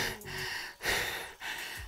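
Heavy, ragged panting from a rider after an indoor cycling spinning session: three loud, close breath bursts with brief gaps between them, alone with no talk.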